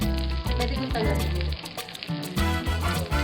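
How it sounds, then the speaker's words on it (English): Fish fillet fries in hot oil for a sweet and sour dish, a loud crackling sizzle that surges and dips in bursts, with busy kitchen clatter around it. "we're still frying the fish, right? The fillet."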